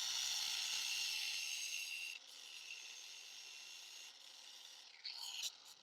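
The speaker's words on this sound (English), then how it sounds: "I'm just gonna take them on the flap disc, and I'm not gonna cut them off, but we're going to flatten them down" A flap disc grinds down the ends of metal bracket mounts on a golf cart, flattening them slightly. It makes a steady, fairly faint abrasive hiss that shifts in pitch and intensity a few times, with a brief harsher burst near the end.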